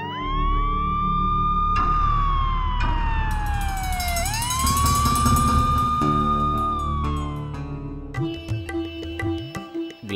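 An ambulance siren wails loud and close, its pitch rising and falling in long sweeping cycles, overlapped by other siren tones, before it gives way to a busier mix of traffic and clatter near the end.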